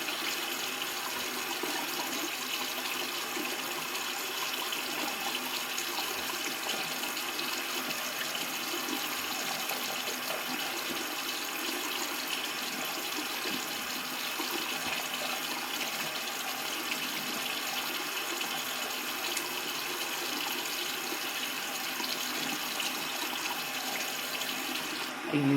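Tap water running steadily into a sink during a skincare face wash, an even continuous splashing stream that lasts throughout at a close, moderate level, with no talking.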